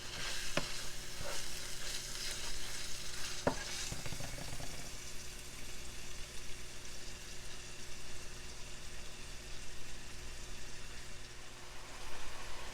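Onions, peppers and meat sizzle steadily in a pot for cheesy taco spaghetti, with a few scraping stirs near the start and then an even, continuous hiss.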